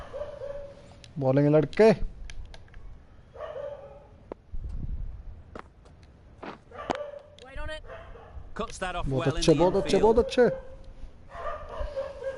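Dogs bark and yip in short bursts near a cricket match between India and England, mixed with steady commentary talk and crowd ambience, with a couple of louder yelping clusters standing out.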